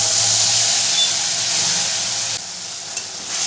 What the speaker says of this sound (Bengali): মশলাটাকে ভালো করে আমি কষিয়ে নেব।